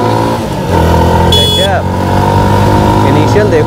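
A TVS Sport motorcycle rides along a road, its engine giving a steady, close drone with a brief rise partway through, while someone talks over it.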